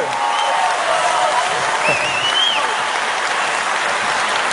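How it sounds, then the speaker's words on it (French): A large ceremony crowd applauds the Corsica team at the WorldSkills 2023 opening in Lyon, dense continuous clapping at steady loudness throughout, with a faint whistle-like tone rising above it briefly. "Voilà, on applaudit la Corse,"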